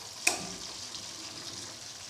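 Pieces of crispy fried chicken fry in oil in a pan, making a soft, steady sizzle with one sharp crackling pop near the start.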